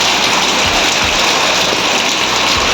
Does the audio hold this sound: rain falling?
yes